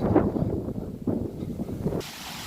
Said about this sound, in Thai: ลมแรงมากครับ ดูครับอันนี้ลมแรงมาก